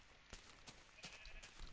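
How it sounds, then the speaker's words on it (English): Sheep bleating in the Minecraft Beta 1.7.3 video game, several short, faint calls spaced across a quiet background. "just accidentally finding more and more sheep to shear"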